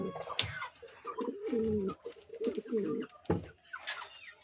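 A pair of King pigeons coos on a pigeon farm, with several low, rolling coos close by in uneven bursts and a couple of sharp knocks in between.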